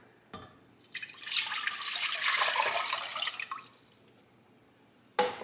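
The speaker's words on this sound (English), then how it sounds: "We're going to add our water." Water pours into a cooking pot on a stove for arroz con leche, a rushing splash that swells for a few seconds and fades, with a clatter at the start and end.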